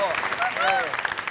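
A game show studio audience applauds, a brief burst of dense clapping under a host's voice.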